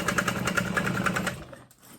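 A sewing machine stitches steadily around the curved edge of a hexagonal tote bag, following the stabilizer, a fast even whirr with regular needle pulses for over a second before slowing and stopping.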